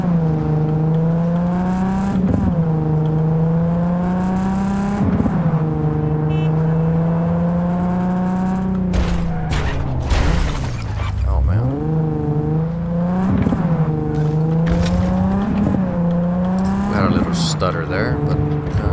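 A car drives in Cyberpunk 2077, its engine droning steadily with repeated rises and drops in pitch as it shifts, with a burst of noisy impacts partway through, all loud and continuous.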